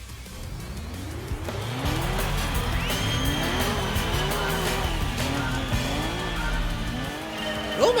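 A Suzuki Escudo-like car engine in Gran Turismo 2, revving and shifting up and down under steady load with tire squeal, close and fairly loud, with a short voice near the end.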